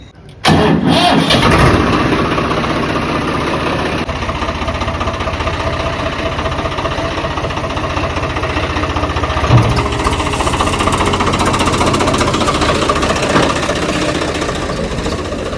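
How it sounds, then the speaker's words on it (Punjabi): A farm vehicle's engine cranks and catches during paddy harvest work. It then settles into a loud, steady running idle close by for the rest of the stretch, with no talking. "ਚਲੀ ਹੁਣ ਕਰੀਏ ਗੱਡੀ ਸਟਾਰਟ ਭਾਈ"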